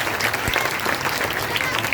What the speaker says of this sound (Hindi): ताली भी बजा रही है